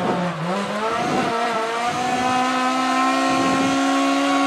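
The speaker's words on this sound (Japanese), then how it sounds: "あーやっぱエンジン伸びる、" An AE86 fitted with a swapped 2-litre 3S engine revs hard while drifting uphill on a mountain pass, the loud engine note climbing steadily with brief tire squeal and no talking.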